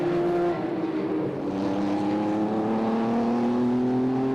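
A Porsche race car at the 2010 24 Hours of Dubai howls by with a steady, harmonic engine note that rises slightly in pitch, moderately loud and unbroken, with no commentary over it.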